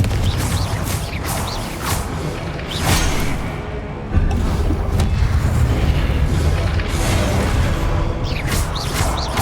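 Confringo spell explosions in the video game Hogwarts Legacy burst out again and again as loud booms and whooshes under dense, continuous game combat noise.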